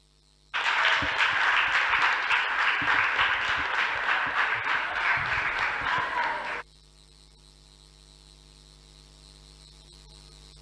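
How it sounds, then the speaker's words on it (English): Audience applause at a school debate bursts in loud and dense, lasts about six seconds, then cuts off abruptly, leaving a low electrical hum. "A round of applause for them, please."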